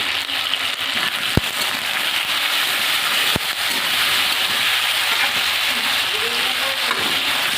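Cut potatoes seasoned with salt and turmeric fry in oil with a continuous crackling sizzle, close up, broken by two sharp clicks and light background voices.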